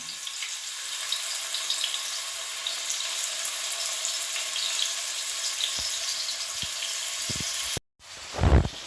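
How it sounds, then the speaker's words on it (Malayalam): Garlic chicken pieces fry in a pan with a steady, bright, hissing sizzle close by, broken by a brief gap near the end before a louder burst of spattering. "നമ്മൾ നേരത്തെ എടുത്തു വെച്ച ചിക്കൻ അത് ഓരോ പീസ് വെച്ചിട്ട് നമുക്കത് ഫ്രൈ ചെയ്തെടുക്കാവുന്നതാണ്"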